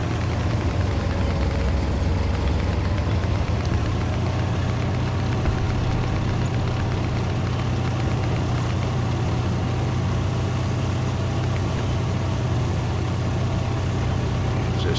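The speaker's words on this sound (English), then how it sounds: "Smooth running Japan motor. It's a Datsun" A Japanese Ha-Go or I-Go Ko tank with a Datsun engine runs smoothly, giving a steady, continuous low mechanical drone at close range throughout, with no breaks or changes in pitch.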